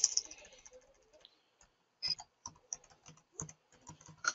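Quick bursts of keystrokes as a password is typed on a computer keyboard, close and crisp, with pauses between clusters of clicks and no talk.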